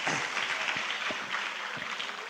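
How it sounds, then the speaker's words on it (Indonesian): An audience at an Indonesian business networking seminar claps together, a steady, dense patter of many hands that holds at an even level throughout without a break. "tepuk tangan dulu deh"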